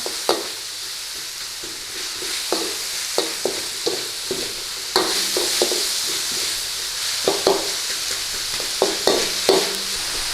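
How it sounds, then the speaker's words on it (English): Onions are stir-fried in a hot pan for a beef and banana pepper stir-fry. A steady loud sizzle runs throughout, with a spatula scraping and tapping the pan at irregular intervals close by and no voices. "Get your onions in there. Give that a stir around."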